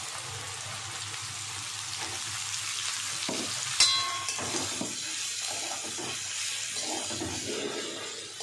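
Cabbage frying with ground cumin, coriander and chilli powder in a pan gives a steady close sizzle with light stirring scrapes and one sharp clink partway through, no voices.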